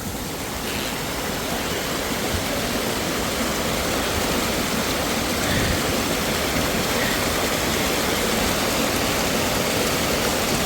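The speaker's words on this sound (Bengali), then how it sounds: "তো আমরা একটু দাঁড়িয়ে নিলাম এই ঝর্ণাটায়।" Loud, constant rushing roar of a waterfall beside the road between Pahalgam and Srinagar in Kashmir, dense and unbroken throughout, with nothing else audible.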